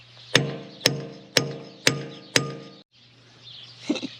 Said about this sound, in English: I'm gonna have to get a bigger hammer